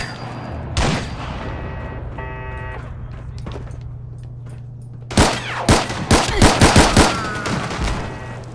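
Gunfire in the video game Fallout 4: a burst of several sharp shots near the end, loud and close, with a separate clatter and electronic tones earlier over a steady low hum.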